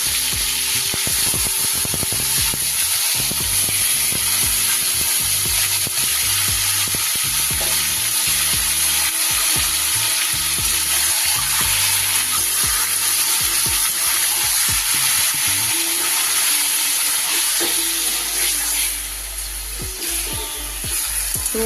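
Whole chicken pieces with spice paste sizzle loudly in hot oil tempered with bay leaf and cinnamon, a steady dense frying hiss with occasional stirring scrapes and no talk.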